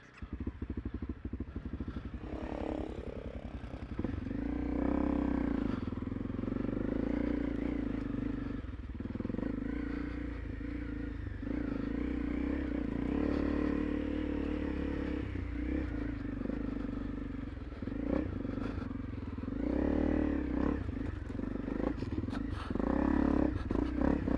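A Honda CRF300 Rally motorcycle engine drones steadily throughout, rising and falling as it rides past at moderate distance, with the roar swelling and easing with throttle changes.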